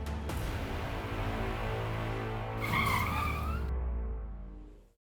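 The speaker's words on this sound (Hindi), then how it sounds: "सर गाड़ी क्यों रोक दी?" A car skids to a stop with a loud, sustained tire squeal over engine rumble, rising and then cutting off abruptly after a few seconds.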